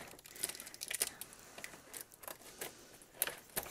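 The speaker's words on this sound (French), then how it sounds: "Donc, les petits ciseaux." Small scissors cut into the plastic packaging of a PVC figurine, heard as faint, close, irregular snips and crinkles spread across a few seconds in a quiet room.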